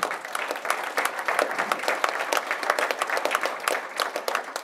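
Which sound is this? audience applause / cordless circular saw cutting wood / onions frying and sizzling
audience applause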